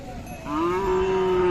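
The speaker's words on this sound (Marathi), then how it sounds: "अशा प्रकारचे खिल्लर आहेत" A Khillar cow at a cattle show and sale in Pandharpur lets out one long, drawn-out moo that rises and then holds steady, close by and fairly loud.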